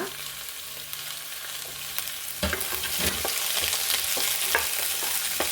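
Capsicum, carrot and beans sauté in hot oil tempering for millet bisibele bath, a close steady sizzle with stirring scrapes that grows louder and busier halfway through, no talk.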